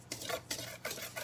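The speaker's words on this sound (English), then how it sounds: "I'm just going to use my whisk to whisk that around" A whisk stirs baking powder and baking soda through dry ingredients in a bowl for cornbread, quick rhythmic scraping strokes close up and fairly quiet, with no talking.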